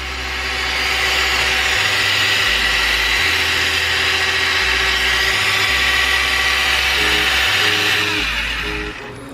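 The motor of a New Bright Reaper RC truck held at full throttle gives off a loud, steady high whine with a pulsing low hum underneath, close up and unbroken for several seconds before easing slightly at the end.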